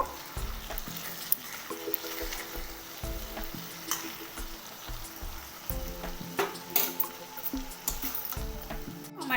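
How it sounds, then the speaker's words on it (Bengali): Ghee goes into a pumpkin and Gobindobhog rice dish with garam masala and is stirred in. Crackling, sizzling frying comes with repeated, uneven spoon scrapes and knocks against the pot, close and fairly clear. "এবার দেব আট চামচ মতো ঘি খুব ভালো করে মিশিয়ে নেব"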